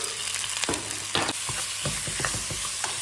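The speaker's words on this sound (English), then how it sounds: "frying it for a couple of minutes until the onions are cooked, the peppers are cooked, and the chicken especially is cooked through" Chicken, onions and peppers stir-fry in hot oil for fajitas, a loud continuous sizzle broken by sharp scraping strokes of the stirring utensil against the pan.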